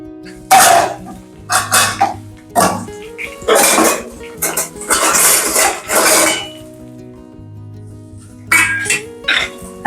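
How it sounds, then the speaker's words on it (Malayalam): A plate picked up and handled in a home kitchen while making sardine pickle, several clattering knocks and scrapes of dishware in bursts, mixed with nearby coughing and other household noises. "ഒരു പ്ലേറ്റ് എടുക്കട്ടെ"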